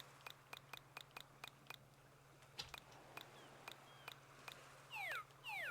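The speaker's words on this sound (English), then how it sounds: "Cat's making weird noises." A cat makes odd noises nearby: a faint series of quick, evenly spaced clicks like chattering, ending in a couple of short rising and falling chirps, all quiet against a low background hum.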